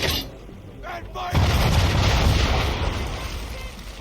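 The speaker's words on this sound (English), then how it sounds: "Now, aim all guns at her bow and do as much damage as possible." Broadside of a sailing warship's cannons in Assassin's Creed III, a sudden heavy boom that breaks in after a short shouted line and rolls on as a dense, sustained rumble of blasts fading slowly.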